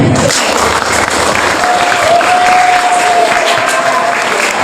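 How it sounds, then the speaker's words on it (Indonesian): A school hall full of junior high students applauds at an entrepreneurship training event, the clapping loud, dense and sustained throughout with crowd noise mixed in. "Tepuk tangan semua."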